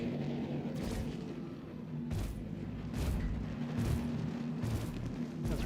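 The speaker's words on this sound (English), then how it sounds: "Of course, using cannons is not the greatest." Cannons on an Anvil Gladiator bomber in Star Citizen fire in heavy, booming bursts, roughly one per second over a constant engine-like rumble and hiss, loud and close.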